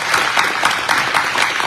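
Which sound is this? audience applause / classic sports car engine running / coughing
audience applause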